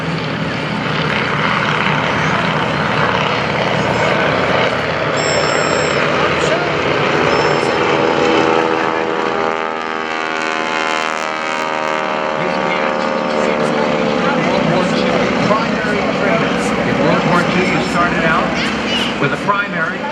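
Stearman biplanes flying in V formation at an airshow, their radial engines droning loudly and continuously with a throbbing, shifting pitch as they pass overhead.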